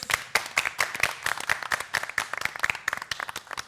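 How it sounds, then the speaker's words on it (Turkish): Studio audience on a Turkish television game show clapping in a sparse, rhythmic pattern, individual claps distinct and fairly close rather than a dense roar, steady for a few seconds. "İki masamızı da alkışlıyoruz."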